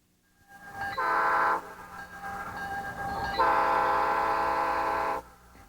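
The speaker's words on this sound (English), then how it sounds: "Shrill train whistles still pierce the air in Hattiesburg, Mississippi" Loud, shrill train whistle blasts in two long bursts in Hattiesburg, Mississippi, the second held for nearly two seconds, with rumbling rail noise underneath.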